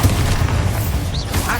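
Bombarda explosion spell in Hogwarts Legacy during a fight, a loud, sustained booming blast with heavy low-end rumble and a brief whooshing tone partway through.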